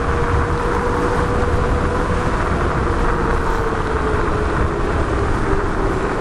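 A Halo Knight T107 Pro electric scooter runs steadily and loudly, a continuous broadband roar of motor whine, tire rumble and wind buffeting with a faint steady tone riding over it, no voices.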